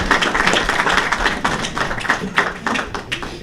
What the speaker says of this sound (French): on va peut-être pouvoir l'applaudir quand même